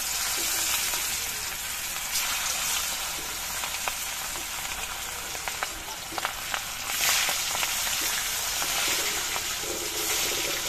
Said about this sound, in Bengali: এবার কয়েক পিস মাছ একসঙ্গে দিয়ে আমি ভেজে নেব।